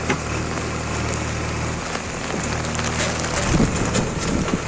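Heavy monsoon rain pours steadily over flooded farm fields in Banaskantha, Gujarat, a dense, constant hiss close by with no voices over it.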